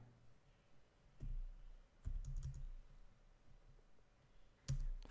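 Keys clatter on a computer keyboard as a chmod command is entered in EndeavourOS, arriving as a few short bursts of close, quiet clicks with pauses between them.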